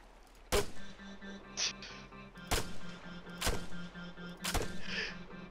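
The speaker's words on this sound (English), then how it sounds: "Are we getting shot at, Optimistic, or are you shooting at me?" Four sharp gunshots in the Arma 3 video game crack out about two seconds apart, each ringing briefly over a low steady hum.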